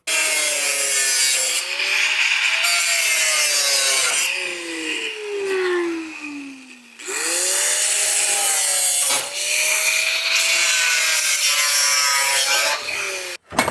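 A piece is cut off a 1941 Mercury floor pan with a loud, continuous, whining cut whose pitch swoops and dips, broken by a few short pauses over about 13 seconds, close up.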